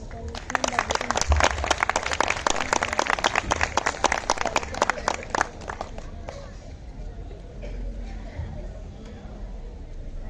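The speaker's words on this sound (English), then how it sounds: "In your loud applause" An audience at a school annual prize distribution ceremony breaks into loud applause, dense clapping for about five seconds that then fades to room murmur with a voice speaking.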